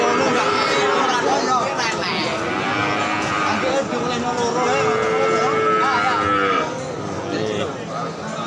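Cattle lowing repeatedly at a busy cattle market in Tuban, East Java, several long moos overlapping amid constant crowd chatter and nearby voices.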